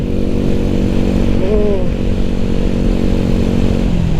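A Honda Wave 125 motorcycle engine drones steadily and loudly while riding on the road, a constant close-up hum with a brief tonal whine rising over it midway.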